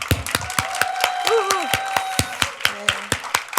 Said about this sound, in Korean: 하나님께 단군 일의 최고의 박수로 영광 올려드리겠습니다